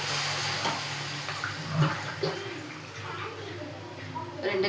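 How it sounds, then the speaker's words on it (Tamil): Water splashes steadily as it is poured into a cooking pan over spiced chili-powder seasoning, a close, continuous watery rush with a voice speaking faintly underneath. "2 கிளாஸ் தண்ணி ஊற்றிக்கலாம்."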